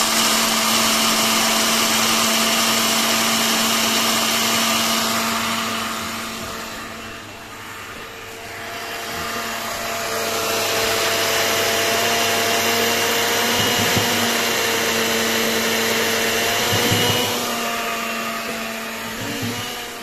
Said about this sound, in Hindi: मशीन की आवाज़ आप सुन सकते हैं।